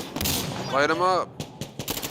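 Automatic gunfire in Insurgency: Sandstorm, a loud burst of rapid shots at the start followed by scattered single reports, with a voice breaking in over the middle.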